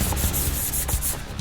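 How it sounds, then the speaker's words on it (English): Steady back-and-forth rasp of 400 grit sandpaper rubbing overspray off a 1:350 scale Enterprise refit model saucer, close and continuous with brief rhythmic strokes. "Trying not to go too deep because I don't want really aggressive 400 grit sanding scratches"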